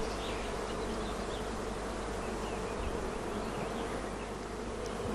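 Honey bees buzz densely and continuously at a hive frame while the colony works on a queen cell, a steady close-up drone of many insects with no voices.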